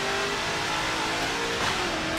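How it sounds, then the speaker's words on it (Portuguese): A Chevy Fleetline in Forza Motorsport 7 holds a loud, steady high rev in third gear, the engine drone continuous and close with no talking. "Olha a terceira desse carro."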